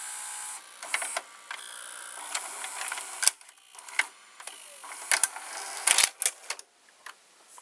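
A JVC HR-VP606U VCR ejecting a tape, a sequence of mechanical clicks, clunks and short whirring motor bursts at close range, with no talk.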